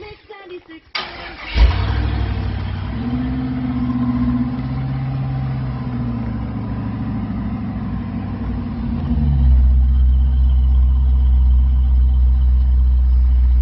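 A GM LS V8 engine swapped into a Chevrolet C10 pickup cranks and fires up on its first start with exhaust fitted, then settles into a deep, loud idle with a rumbling exhaust; voices speak over it.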